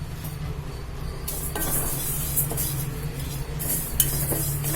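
Cumin seeds roast in a pan over low heat, stirred with a metal spoon that scrapes and clinks against the pan in bursts above a low steady hum, no voices.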